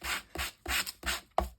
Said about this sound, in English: when with a bit of gentle sanding,